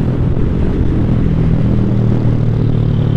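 A Lifan KPR200 motorcycle riding onto a freeway: a loud, continuous engine drone with steady rumble and road noise, close to the rider and with no talking.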